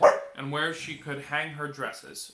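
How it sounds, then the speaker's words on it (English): Pet dog Allie barks and yips indoors at something outside, a string of sharp barks starting loud then continuing at mid distance while a woman reads aloud over them. "that's my dog Allie hearing something outside"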